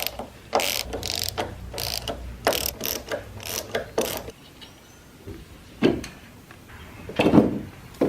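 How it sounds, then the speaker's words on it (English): Ratchet with extension and 13mm socket loosening the top hat bolts on a car strut, with bursts of rapid close clicking in short strokes, then a pause and scattered softer handling noises. "ratchet, along with your extension and 13mm socket for the top hat bolts"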